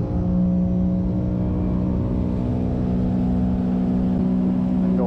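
Engine and hull noise from a Sea-Doo Switch pontoon boat with the Bimini top removed, holding a steady loud drone with strong low harmonics as it accelerates toward top speed, with no voices.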